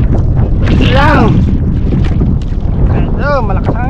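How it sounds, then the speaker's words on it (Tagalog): Strong wind buffets a small boat out at sea during crabbing, roaring loudly and steadily into the microphone, with a voice briefly heard in the gusts. "Ito, malakas hangin."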